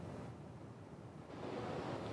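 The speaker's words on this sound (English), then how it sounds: "It is very windy and very cold here along the beach." Rough surf and strong gusting wind along the shore at Virginia Beach during a cold winter storm, a steady broadband roar of breaking waves with wind buffeting the microphone, growing louder toward the end, no voices.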